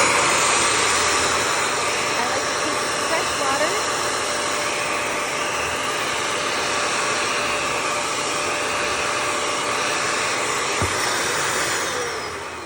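An upholstery extractor runs steadily with a loud, continuous motor whine and airflow roar, a constant tone holding throughout before easing slightly at the end.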